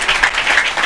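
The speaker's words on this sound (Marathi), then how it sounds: "तुम्ही सर्वांनी जोरात टाळ्या वाजून प्रभू येशूला धन्यवाद द्या." A church prayer-meeting congregation in Naigaon claps loudly together, a brief burst of full, continuous applause.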